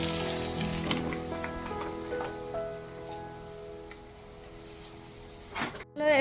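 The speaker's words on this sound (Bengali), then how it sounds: "ওই জন্য ভেজে দিচ্ছি।" Chicken fingers frying in hot oil, a steady crackling sizzle with bursts of spatter, sounding close, ending with a brief louder rustle.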